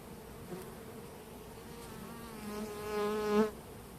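Honeybees drone at an opened hive during a spring brood check, a quiet continuous buzz that swells as a bee passes close near the end.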